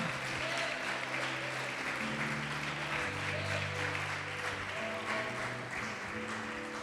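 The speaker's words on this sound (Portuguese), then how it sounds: "Você pode aplaudir o Senhor Jesus e glorificar" A church congregation claps steadily through the whole stretch, with sustained organ or keyboard tones ringing beneath the applause at a fairly even level.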